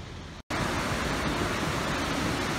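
A powerful waterfall at Shimojo-an, Japan, roars as a steady, dense wash of rushing water that sounds close and loud, with a brief cut near the start and no voices.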